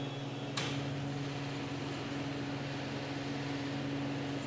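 A house furnace runs with a steady low mechanical hum and a soft airy whoosh throughout, constant and fairly quiet, with a single faint click near the start.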